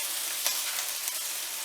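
Pork loin strips fry hard on a stovetop, giving a dense, steady sizzle with faint crackles, close and fairly loud with no voices.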